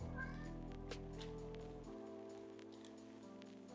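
A cat meows a few times in the background over a steady low hum with rustling and clinking nearby.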